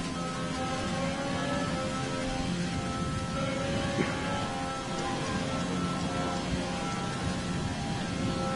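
Steady rain patters continuously under a droning engine hum, with no voices, in a racing video game.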